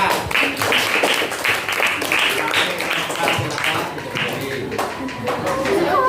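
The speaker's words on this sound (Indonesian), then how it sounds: "kita beri tepuk tangan untuk kelompok 4" A classroom group claps for a student team after its presentation, scattered, uneven hand claps that rise and fade over several seconds.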